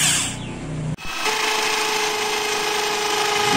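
Power drill boring a hole in thick, hard wood for a parrot perch, a steady motor whine running continuously after a brief stop near the start.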